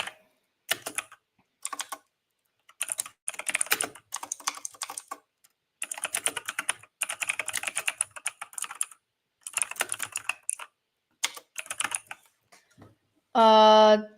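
Computer keyboard typing in bursts of quick clacking keystrokes with pauses between, fairly close, alone, ending in a short tonal electronic-sounding blip.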